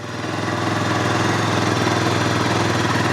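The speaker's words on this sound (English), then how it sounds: "It's quite a nice exhaust tone actually. It's not super loud." A Beta Alp 4.0 dual-sport motorcycle idles close by, its single engine putting out a steady, even, moderately loud exhaust thrum with a fast regular pulse and no talking.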